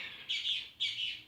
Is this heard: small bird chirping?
yes